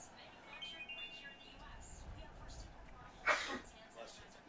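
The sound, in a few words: sneeze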